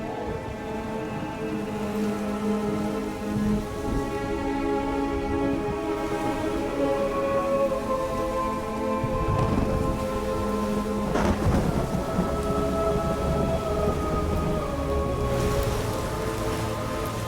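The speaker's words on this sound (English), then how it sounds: "A sudden violent storm brewed across the horizon, tearing through the clouds and separating them in an instant." A violent thunderstorm with heavy rain in the Ori video game, steady rainfall with rolling thunder and a sharp crack partway through, under layered musical tones throughout.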